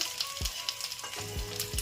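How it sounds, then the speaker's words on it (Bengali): Ginger and garlic fry in a wok with a soft, steady sizzle broken by a few brief stirring clinks and scrapes, close and fairly quiet, no talking. "কড়াইতে আদা আর রসুন দিয়ে দিলাম"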